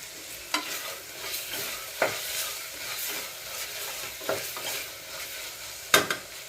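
Tomatoes with a pinch of salt are sautéed in a pan for green peas masala, giving a continuous soft sizzle broken by several sharp scraping stirs of a spoon, close by.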